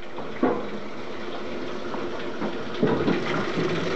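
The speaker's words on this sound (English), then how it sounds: "open up the cold water." Cold water rushes steadily into a Whirlpool LA9100XT washing machine as it fills, a continuous broadband hiss with a couple of brief louder surges partway through, no talking.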